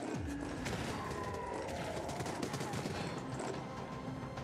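Rapid gunfire in the Void Bastards FPS roguelite, a dense stream of close shots and bullet impacts crackling steadily for several seconds amid busy game noise.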